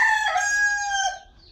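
A rooster crows once, loud and close, in a single drawn-out call that fades at the end, with the faint cluck of farmyard chickens around it.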